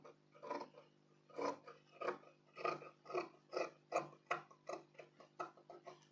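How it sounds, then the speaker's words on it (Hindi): Scissors trim extra fabric from a blouse being fitted, giving about a dozen quiet, evenly spaced snips in a steady rhythm, close by with no talk. "तो इसको हम छाट कर बराबर करेंगे।"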